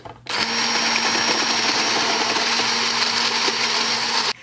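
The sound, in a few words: electric mixer whisking egg whites with sugar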